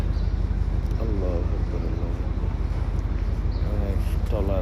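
Boat engines from many river trawlers carrying sand and cement chug steadily in a continuous low throb, with wind buffeting the microphone and someone talking over it on a foggy morning.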